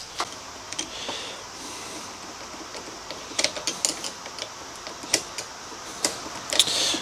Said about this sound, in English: Just need a blade screwdriver.